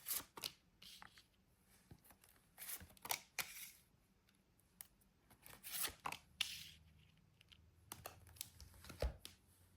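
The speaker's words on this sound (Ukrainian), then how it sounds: "Витягаю для вас три карти." Quiet tarot card handling: sharp slides, flicks and papery snaps come in irregular bursts, close up and soft.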